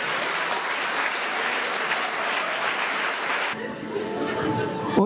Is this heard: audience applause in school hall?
yes